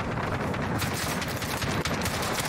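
In Call of Duty Warzone, an AK74u fires in a dense, continuous burst of rapid automatic gunfire, loud and close, with a few sharp shots near the end and no speech.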